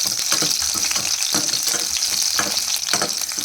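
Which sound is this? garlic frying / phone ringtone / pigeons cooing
garlic frying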